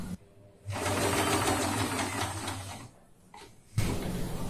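A sewing machine stitches fabric in a straight line, running in two loud steady bursts of rapid needle chatter with a short pause between them.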